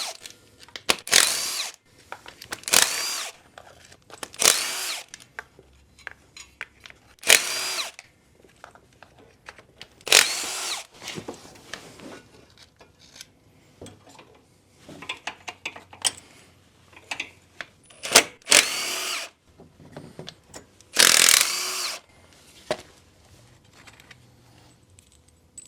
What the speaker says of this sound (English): Quickly pop all those bolts out.